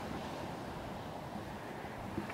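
Steady wind blowing at a Baltic Sea kitesurfing spot after rain, a constant broadband rush with surf-like roar and microphone buffeting throughout, no voices.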